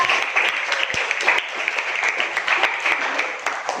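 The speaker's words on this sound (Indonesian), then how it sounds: "Tepuk tangan dulu untuk Revan." A small group in a school classroom claps, dense and lively, for a few seconds, close by, with no talk over it.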